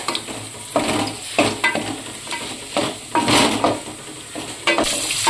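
Whole spices sizzling with onions in a hot pan, crackling fry noise broken by repeated scraping stirs of a spatula in uneven bursts, close and fairly loud.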